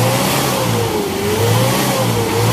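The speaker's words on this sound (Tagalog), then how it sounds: "Pero pag nakalagay na ang Aero Metal Guard, pansinin nyo, tinan yung tunog ng makina." A car engine treated with Aero Metal Guard additive revs close and loud, its pitch rising and falling smoothly in a steady, even drone.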